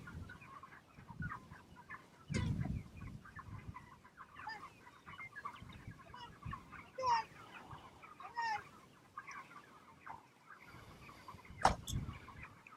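Chickens clucking steadily around a farmyard, with scattered nearer squawks and occasional louder bursts, no talking.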